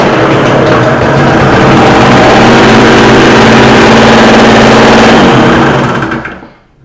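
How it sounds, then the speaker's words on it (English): A portable Tiger generator engine runs loud and close with a steady, buzzing drone and no talking, then cuts out and fades in the final second. "Now, I'll put on the generator so you get first hand the initial sound of the generator"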